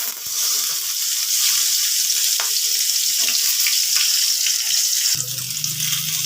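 Raw plantain and sweet potato fry in hot oil in a pan, a loud, steady close-up sizzle running throughout with a few soft stirring knocks and a brief low hum near the end.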